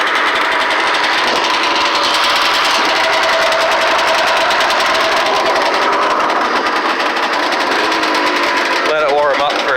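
A Ski-Doo Blizzard 9700 snowmobile with twin pipes idles close by, a loud, rapid, uneven engine rumble running continuously, with a voice briefly heard near the end.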